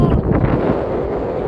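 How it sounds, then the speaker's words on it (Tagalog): Strong wind at Castelgrande in Bellinzona, Switzerland, roars and buffets the microphone with a steady, loud rumble throughout. "Lakas ang hangin."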